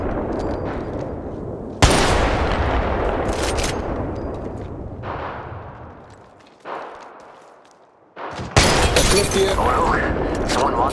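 Heavy gunfire in the mobile battle royale Apex Legends Mobile arrives in several loud, abrupt bursts, each fading away before the next blast, close and dominant.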